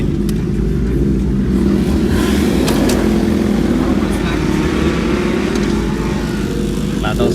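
Car engines rev loudly and continuously at a large car meet, with motorcycles also around, the roar rising and falling close by under the crowd's chatter and shouting.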